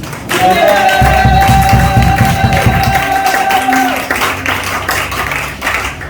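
A church congregation acclaims Jesus with loud clapping, cheering and a sustained vocal cry over a thumping beat, and the sound fades into scattered applause.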